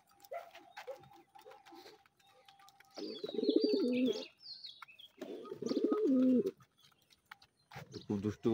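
Two clear rounds of throaty cooing from Sirazi pigeons on a pigeon farm, close by, while a pigeon feeds, with soft chirps and faint background noise between the bursts.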